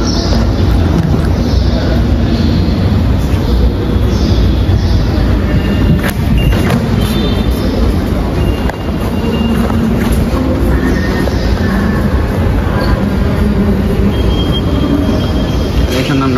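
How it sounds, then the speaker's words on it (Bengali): Metro train giving a loud, continuous rumble with rattling and clatter that holds steady throughout, with a brief dip in the middle. "এখন আমরা যাব মেট্রোতে"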